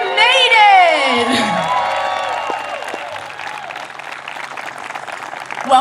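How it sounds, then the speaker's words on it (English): Families and friends applaud and cheer at a fifth-grade moving-up graduation ceremony at a school, opening with a loud whoop and shouts, then a steady wash of clapping from a large audience. "We welcome and applaud our fifth graders."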